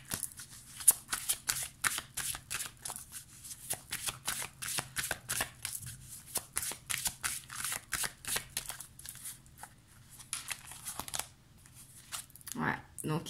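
A deck of cards is shuffled for a card reading, close up, in a long run of rapid flicking riffles and slides that pauses briefly near the end before a final few shuffles.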